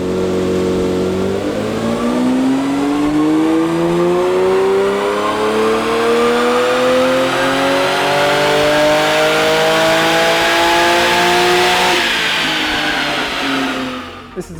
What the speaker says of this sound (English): give the car a run up on the dyno just to see how it's performing